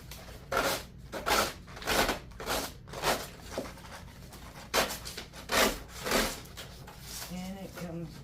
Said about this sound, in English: We're just going to sand it. And you're going to move the motion down.